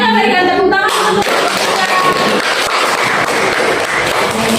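A classroom of students claps for a group presentation, loud, close and continuous after a brief spoken lead-in, with rapid overlapping hand claps filling the whole stretch.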